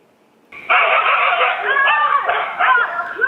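A stray dog in Alappuzha, from an area where it attacked several people, lets out a sudden loud burst of yelping, whining barks that carries on for a few seconds close by.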